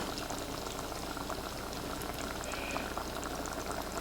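Butter foaming and crackling in a hot pan with sage leaves, a dense steady bubbling fizz that holds at an even level throughout, close and alone with no talking.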